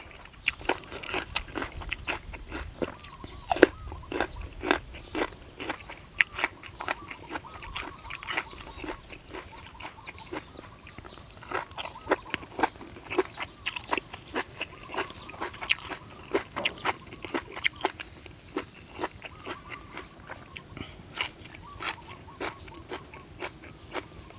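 Bitter gourd eaten with papaya salad is chewed with a steady run of close, crisp crunches that repeat quickly and unevenly throughout, quiet and alone without talk.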